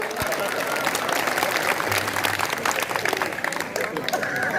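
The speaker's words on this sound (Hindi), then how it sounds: "अगर लग रहा है तो एक बार तालियां ठोक दो" A live audience claps at a Hindi stage poetry recitation, a dense sustained ovation of many hands that stays loud throughout, with crowd noise and voices mixed in.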